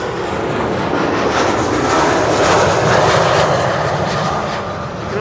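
Saudia airliner at Schiphol, a loud broadband jet roar that swells and holds steady then eases slightly, heard alone without talk.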